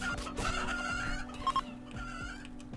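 Chickens in the video game Rimworld cluck and squawk in a steady busy stream of short calls, with some louder bursts standing out over a low background hum and no voices.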